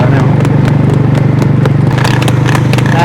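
A horse's hooves clip-clop in a steady rhythm at a rural gathering in Chhachh, Pakistan, with a low engine-like drone and loud crowd chatter running over it throughout.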